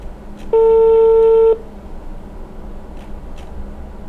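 A single steady telephone tone sounds for about a second over low background hiss, followed by faint clicks.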